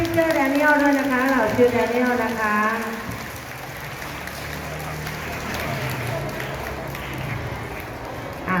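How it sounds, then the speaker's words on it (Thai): Applause at a school event, many hands clapping in a dense patter that builds after a voice speaks over a loudspeaker, continuing steadily to the end. "ขอเสียงปรบมือดังๆให้"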